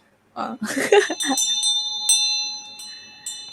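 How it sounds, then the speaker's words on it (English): A bright bell rings out and sustains with a long shimmering tone, following a brief burst of nearby voices and light laughter. "So bell ringing is also very good."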